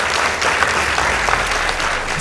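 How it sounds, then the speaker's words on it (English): Audience at a school competition, likely a Kenyan secondary-school music or drama event, breaks into steady, dense applause that fills the whole moment without a break. "Let's give them a round of applause."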